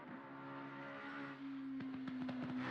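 A race car engine in a racing video game drones at a sustained pitch, rising slightly, heard faintly with a few short clicks toward the end.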